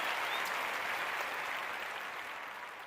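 A crowd clapping and cheering at the start of a live music review show, a steady wash of applause that fades slightly toward the end.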